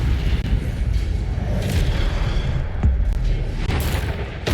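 A spell blast explodes in Hogwarts Legacy, a loud continuous rumbling boom that fills the clip with dense low roar and sharp crackling bursts layered over it.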